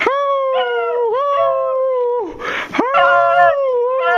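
A rescue dog howls in long, wavering tones, loud and close, with a brief noisy break midway before the howling resumes.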